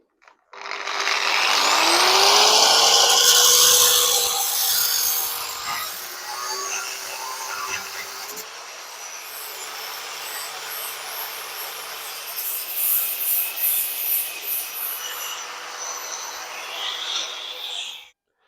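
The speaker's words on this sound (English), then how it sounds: "now I've just got to take my time with the grinder" Angle grinder cutting welds on the subframe of a Yamaha R1 motorcycle, a loud close high-pitched whine that rises as it spins up, then a steadier grind that eases toward the end.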